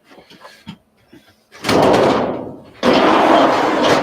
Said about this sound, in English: Close that door again